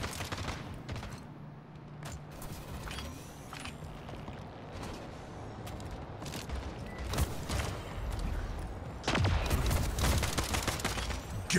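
Weapon fire in the shooter game Splitgate, including a rocket launcher, with repeated sharp shots and bursts over a busy game backdrop, getting denser and louder toward the end.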